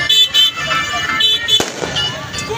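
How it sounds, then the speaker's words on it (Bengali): Fireworks bursting on Cox's Bazar beach during a New Year celebration, with a sharp crack standing out over a dense, steady crowd roar and scattered car horns. "এই যে আতশবাজি পোড়ানো হচ্ছে"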